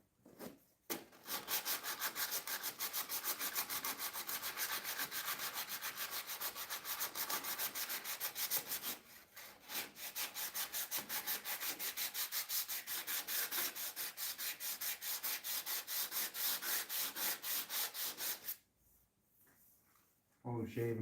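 Sandpaper is rubbed by hand over a car engine bay being shaved, in fast, rhythmic back-and-forth scratchy strokes continuing for about eighteen seconds with a brief pause midway, close and fairly loud, before stopping near the end.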